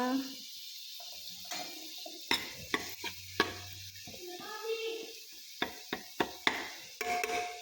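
Vegetables sautéed with spice masala in a pan, the spoon scraping and knocking against the metal in a run of sharp clicks over a low, steady sizzle, with brief bursts of stirring.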